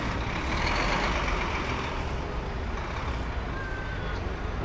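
City bus pulling out on a Manhattan street in December: a loud, steady engine rumble with broad traffic roar, a brief high beep near the end and faint voices under the street noise.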